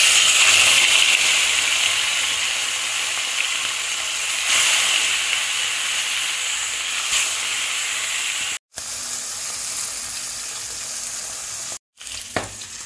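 Koi fish fry in hot oil in a wok with a loud, steady hiss and crackle, broken by two brief moments of sudden silence.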